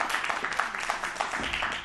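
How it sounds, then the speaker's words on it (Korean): An audience claps after a lecture on learning mathematics, a steady patter of applause with no speech over it. "오늘 훌륭한 강연 전해주신 김은실 컨설턴트께 큰 박수 부탁드리겠습니다."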